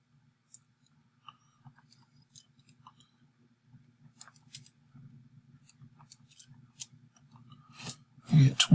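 Calculator keys pressed while entering numbers, giving a run of soft, irregular little clicks over a steady low hum, growing busier and ending in a louder burst of handling noise.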